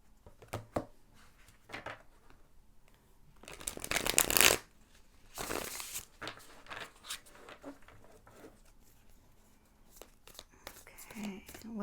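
Tarot cards are shuffled in two short, crisp bursts close to the microphone, separated by quieter handling and soft rustling, with a voice speaking quietly in between.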